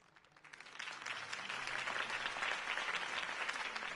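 Crowd applause after a campaign speech in the Batman Telltale video game, starting thin and swelling into a broad, sustained wash of clapping that stays loud to the end.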